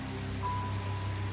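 Steady rain pounding outside at a front door, a dense continuous wash with a low hum running beneath it, even and unbroken from start to finish.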